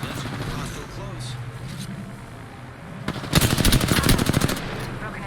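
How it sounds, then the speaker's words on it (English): A dense burst of rapid automatic gunfire rattles out in Apex Legends, following quieter game sounds and a voice talking during the first few seconds. "Getting shot at."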